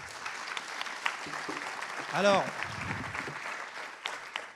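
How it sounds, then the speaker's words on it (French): An audience applauds at a conference, with steady, fairly faint clapping throughout and a voice briefly talking over it. "Merci, applaudissements."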